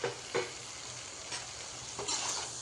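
Fried okra tipped into a frying onion, tomato and spice masala, giving a steady low sizzle with a few soft stirring scrapes and clatters, close and moderately quiet, no voices.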